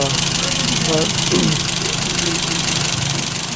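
A 1995 Geo Metro LSi engine idles after startup with a steady, rough rumble and faint knocking, while someone talks briefly over it.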